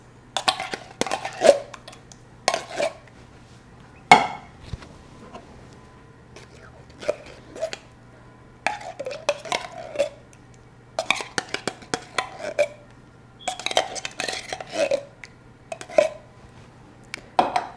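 A utensil stirs a mix of combined ingredients in a skillet, making a series of short, close scraping and clinking hits in irregular bursts over a low steady hum.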